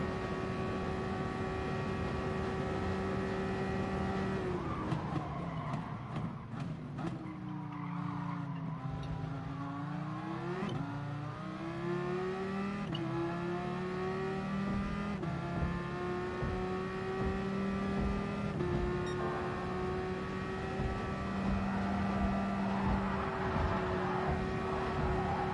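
Race car engine in the GT Sport video game, a steady high-pitched drone that dips as the car brakes and slows through a turn, then climbs again through the gears, loud and continuous with brief tire squeal and no talk.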